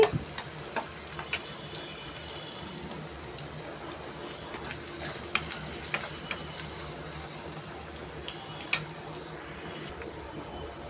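Ginger fries in a pan for a hotel-style pickle, a faint, steady sizzle with scattered small ticks and pops from the oil across the whole stretch.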